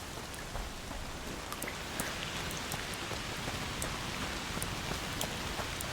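Steady rain falls in A Plague Tale: Requiem, a dense, even hiss of drops pattering on surfaces with scattered sharper taps, continuous and close throughout.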